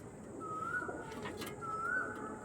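Pigeons heard at a distance against a faint background, with soft cooing and two drawn-out whistle-like tones separated by a short gap.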